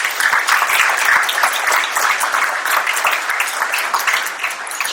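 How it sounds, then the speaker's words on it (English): Guests at a legal-sector gala dinner and awards night give a loud, sustained round of applause, many hands clapping together close by and steady for several seconds. "So a round of applause, please."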